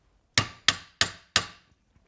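A hammer taps a pin into metal on a Tecumseh LCT snowblower engine's recoil starter four times in a quick, regular rhythm, each crisp clang decaying fast, close up with nothing else around.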